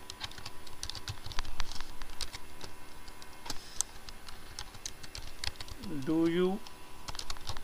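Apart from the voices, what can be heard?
typing on a computer keyboard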